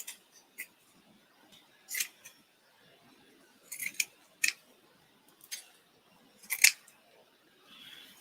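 Scissors cut fabric for a craft journal in a series of sharp, close snips spaced irregularly with quiet pauses between them, and no talk.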